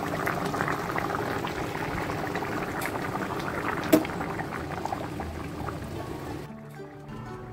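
A covered pot of hilsa fish curry in yogurt simmers with a steady close bubbling hiss, then suddenly goes much quieter near the end.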